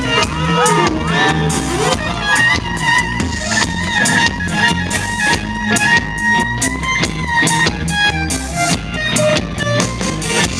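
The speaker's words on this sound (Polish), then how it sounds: "brawo i oklaski" A school performance audience of children and adults bursts into loud, continuous cheering, whoops and shouts with clapping, a dense sustained crowd roar lasting throughout.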